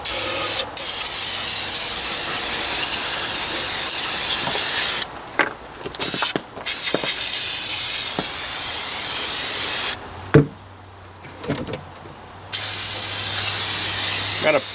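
An aerosol can sprays cleaner and primer onto a brand-new Ford 800 cylinder head in long, loud, steady hissing bursts with a few brief breaks and a longer pause near the end.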